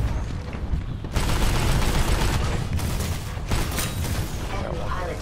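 Gunfire in the video game Titanfall 2: dense bursts of automatic fire and impacts. A quieter stretch opens the clip, then loud sustained shooting continues to the end, with game sounds mixed in and a voice briefly over it.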